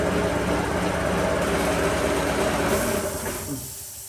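A Campbell Hausfeld 7.5 HP air compressor, just repaired at its check valve, runs with a loud steady mechanical drone and hiss that gradually winds down toward the end.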